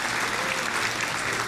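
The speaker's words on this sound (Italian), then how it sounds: "qui voglio una carrellata di applausi che mi sembra doveroso" Steady, dense applause from a studio audience at a New Year's Eve television show, filling the whole short stretch at an even, sustained level with no talk over it.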